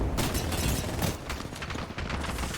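Bangalore's ultimate artillery strike in Apex Legends rains down as a rolling cluster of loud, overlapping booms and bursts, dense and close.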